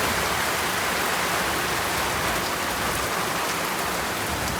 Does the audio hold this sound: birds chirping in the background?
no